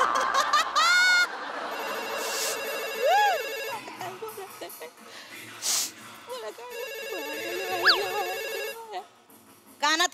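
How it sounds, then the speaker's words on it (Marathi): A telephone rings repeatedly with an electronic melodic ringtone, fairly close, while people talk and chuckle over it. "ते वाजते ते उचल ना. ताईंचा फोन आहे"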